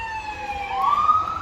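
A police siren wails in the distance outdoors, its rising tone sweeping upward over low background traffic rumble.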